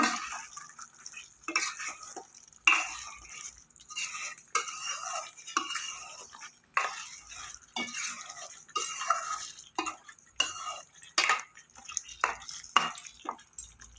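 Egg and spinach curry being stirred after garam masala goes in, with repeated scraping and clinking of a spoon against the pot and wet squelching, in irregular bursts close by.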